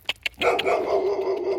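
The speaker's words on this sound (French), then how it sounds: "C'est un chien" A dog barks in a city street, two short yips followed by a louder bark and a sustained growling bark, close and alone without talk.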